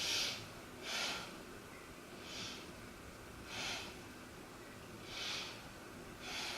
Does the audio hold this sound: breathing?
yes